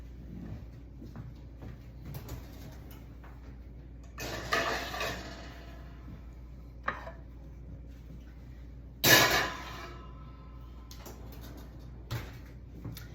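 A metal baking pan of bacon-wrapped green bean bundles, baked at 350, comes out of a kitchen oven with a scrape and clatter around the middle, then a single sharp metallic clank, before the room settles into quiet.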